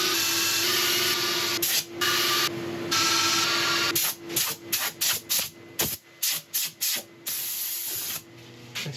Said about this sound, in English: sanding all went beautifully